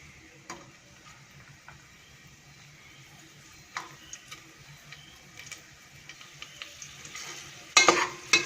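Raisins frying in hot oil after nuts were removed, giving a faint, steady low sizzle with scattered soft ticks and stirring clinks that grow busier toward the end, with no voices.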